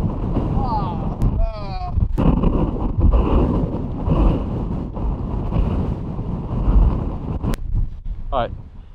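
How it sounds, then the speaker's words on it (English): Steady wind buffeting a microphone outdoors on a golf course during a storm, a constant low rumble with gusts, while people talk over it. "How windy is this?"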